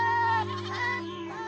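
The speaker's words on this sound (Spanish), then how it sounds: "estaban balando y corriendo emocionadas" Goats bleating close by in a short, loud, wavering call that tapers off, with no other sounds around it.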